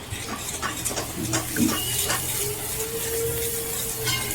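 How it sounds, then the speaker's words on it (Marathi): A spicy vegetable curry ground with green chillies, stirred in a kadhai: a continuous moderate sizzle with soft scraping of a spoon against the pan and a brief metallic clink midway, no speech. "तर आता याला व्यवस्थित असं हलवून घेते मी"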